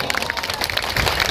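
Applause and clapping from an audience at a political rally, a dense, steady patter of many hands sustained across the moment with crowd noise mixed in.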